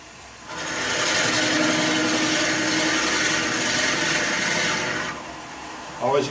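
A wood lathe running at about 700 rpm drills into the end of a spinning block while turning a Japanese-style cup, giving a steady, close rasping grind for several seconds before easing off.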